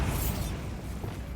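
In Hogwarts Legacy, a Bombarda blasting spell goes off, a deep rumbling explosion with heavy low boom that decays into a rolling tail of debris noise.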